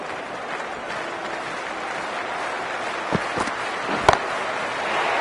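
Steady crowd cheering and applause at a cricket match in the PS5 game Cricket Elite, a broad wash of noise held evenly throughout with a few brief sharp knocks near the end.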